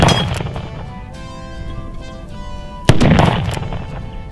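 Sharp gunshots from a Cimarron Model P 1873 single action revolver ring out outdoors, each loud report followed by a metallic clang from steel plates and a long, echoing decay.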